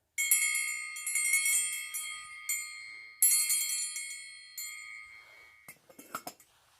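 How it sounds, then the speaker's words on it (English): A small bell rung by hand in a quiet room: repeated bright metallic rings in a few bursts, each ringing out and fading, with faint speech near the end. "Let's see if I ring the bell."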